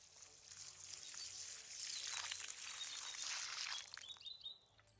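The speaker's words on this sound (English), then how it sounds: "there she is, Vitka, watering flowers" Water pours steadily from a can onto potted flowers, a soft continuous splashing trickle at close range that runs for several seconds before tapering off, with faint bird calls in the background.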